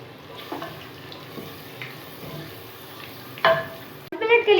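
Onion, tomato and spices cook in a pot for a katwa gosht dish, giving a low steady sizzle with occasional stirring scrapes and a brief louder clatter near the end.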